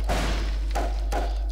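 A crate smashed in the Precursor Source mod game: three dull, heavy thuds spaced about half a second apart, fairly close and alone over a low steady hum.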